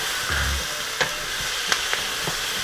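Peppers, garlic and onion frying over high heat in a pan, a steady sizzling hiss broken by a few sharp stirring clicks and pops.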